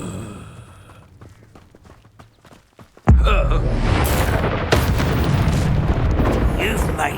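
The Incendio fire spell in the video game Hogwarts Legacy, cast in combat as a sudden loud whoosh and blast that fills the rest of the clip with roaring, crackling fire after a quieter stretch of scattered clicks.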